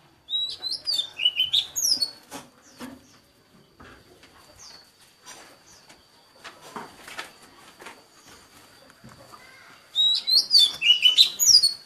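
A young spotted dove chick, just hatched days earlier, peeps in bursts of high, squeaky chirps at the start and again at the end, with quiet shuffling and scratching sounds between them.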